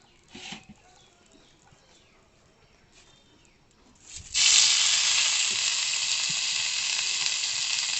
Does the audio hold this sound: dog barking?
no